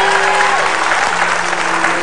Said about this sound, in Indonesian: Tepuk tangan sekali lagi dong untuk Pemirsa